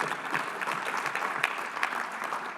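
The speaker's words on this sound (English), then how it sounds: "Oh, applause for our brave delegate." Steady applause from a union convention audience, many hands clapping at once in a continuous, fairly distant wash with no voices standing out.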